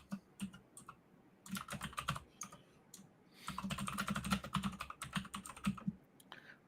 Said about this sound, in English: I'm typing a thing